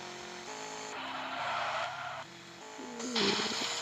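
In a car parking video game, synthetic engine tones shift pitch as a car skids with screeching tires and a sharp collision sound near the end, with no talking.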